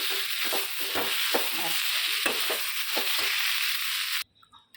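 Vegetables fry in oil in a pan with a steady close hiss and rhythmic scraping stirs, ending abruptly as the heat is cut and only faint clinks remain.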